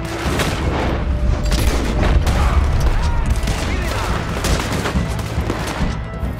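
Gunfire in the western game Red Dead Redemption 2, with a gatling gun involved: dense overlapping shots and booms mixed with game noise, continuous and loud, with voices talking over parts of it.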